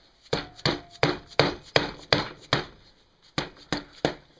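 Eleven sharp knocks of a sand mallet tapping the cylinder head of a 1979 Honda ATC110 engine to break loose old gasket material, struck in a quick steady rhythm with a brief pause partway through, close and clear with no speech.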